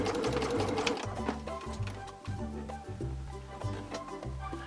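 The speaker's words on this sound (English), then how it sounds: "So I'm going to sew this backwards and forwards." A sewing machine stitches a quilted zipper pouch backwards and forwards, a steady close mechanical whir that pauses and restarts in short runs, with no talking.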